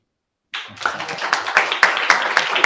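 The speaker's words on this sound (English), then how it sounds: "applause again. Not because I'm on the stage, because we got 5 great startups tonight, so applause again." Audience applause at a startup pitch night, starting abruptly after a short silence and building into steady, fairly loud clapping from a crowd with a few sharper claps standing out.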